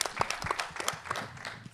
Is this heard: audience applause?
yes